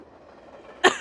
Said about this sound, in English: That got a cough out of me.